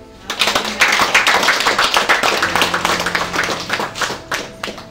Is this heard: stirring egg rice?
no